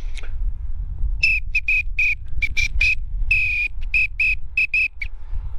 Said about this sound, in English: Hey, I heard a whistle being blown.